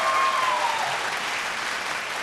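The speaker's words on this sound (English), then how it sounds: "one big round of applause for our contestants" An audience at a televised vocal contest's top 10 show applauds the contestants, a dense, steady wash of clapping that fades slightly, with a brief whistle near the start.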